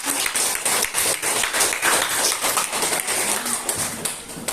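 Rhythmic clapping from a group of children in a classroom, quick and energetic, filling the room steadily for several seconds.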